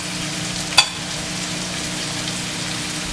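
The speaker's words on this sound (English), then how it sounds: "I can hear it sizzling" A steady, soft crackling sizzle of sausage frying in a pan, broken by one brief sharp click near the start.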